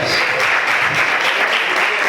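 A church congregation applauds steadily and loudly throughout, a dense, continuous wash of clapping with no pauses.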